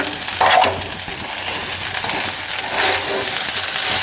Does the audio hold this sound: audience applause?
no